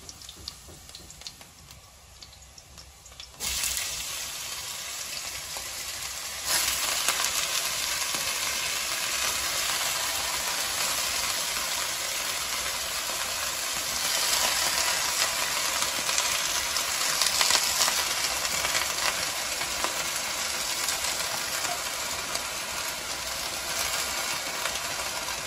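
Mushrooms and onion frying in hot oil, a loud, continuous crackling sizzle that jumps up in intensity as the mushrooms go into the pan and then holds steady, with no talk.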